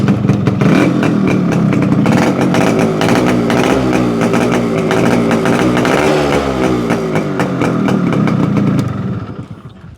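A 1993 Yamaha RX100 two-stroke motorcycle engine runs loud and close, with a buzzing, crackling exhaust beat that wavers slightly in pitch before cutting off and fading away at the end.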